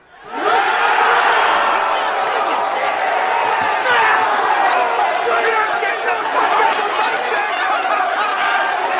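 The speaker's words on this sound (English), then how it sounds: "let's get a round of applause for being single" A large crowd roars and cheers continuously, a dense wash of voices with scattered whoops, sustained at a steady loud level throughout.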